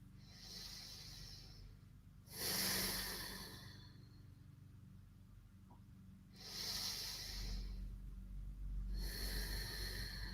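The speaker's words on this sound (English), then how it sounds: "let's take 3 deep breaths here" Slow, deep breaths during a yoga pose, three breathy hissing exhalations and inhalations spaced several seconds apart, close and quiet with soft room noise between them.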